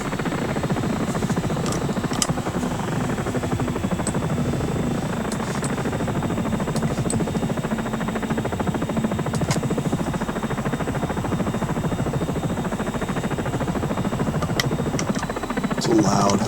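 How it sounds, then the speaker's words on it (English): A KA-50 helicopter's rotor and engine roar in the X-Plane flight simulator, a loud, steady whine and thrum from a sampled engine sound that runs unbroken throughout, with a few faint clicks on top. "it's a loud helicopter."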